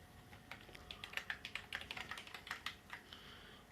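Rapid typing on the membrane keyboard of a ZX Spectrum 128k home computer with some dead keys, a steady run of soft, close key presses with no talking.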